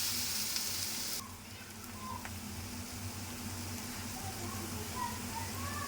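Onions for a street-style onion samosa filling sauté in a pan, a steady close fizzing sizzle that drops slightly after the first second and continues with faint stirring clicks, no talking over it.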